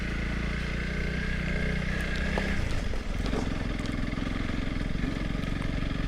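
Honda CRF300L Rally motorcycle riding along a country lane, a steady thrumming single-cylinder engine note that drops in pitch partway through, heard close with wind noise.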